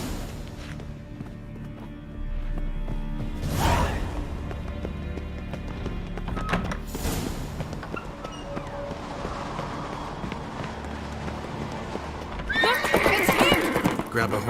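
Horse hooves clip-clopping at a gallop in Witcher 3, loud and close, with sharp whinnies and neighs bursting out near the start, the middle and again toward the end.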